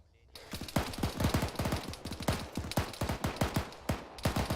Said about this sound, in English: Taking fire from the northwest.